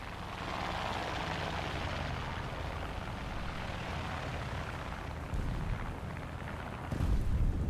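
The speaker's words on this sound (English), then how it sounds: "don't hear anything except for some planes going overhead" Aircraft in the War Thunder video game droning overhead, a broad continuous roar that holds steady and then swells louder near the end, with no voices.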